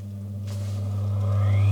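Clutch motor on a sewing machine spinning up after being switched on, a steady low hum with a whine that rises in pitch as it gains speed, close and alone.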